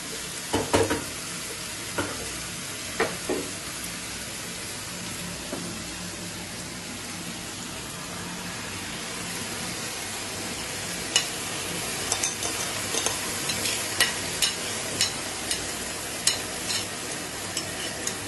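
Chicken pieces hit softened fried onions in a pan and are stirred, a constant loud sizzle with scattered scrapes and clacks of a spoon against the pan, with no voices.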